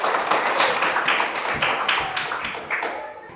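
Pupils in a classroom clap for themselves, a short burst of close, uneven hand claps with a few distinct sharp slaps that thins out and fades after about three seconds.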